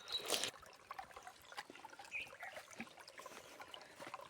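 Clean water trickling and dribbling in a small stream, a faint, close, irregular burble with tiny splashes and a brief louder splash at the start.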